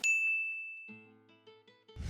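A single clear notification bell rings out and slowly fades, with a few soft low tones following and a brief rustle at the end.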